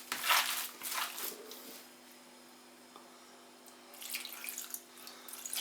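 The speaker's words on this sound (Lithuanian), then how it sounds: "Vanduo pilasi, kad mėsa būtų sultinga." Water is poured onto pounded sausage meat in a home kitchen, giving close, wet splashing bursts at the start and again near the end, with a quiet lull between.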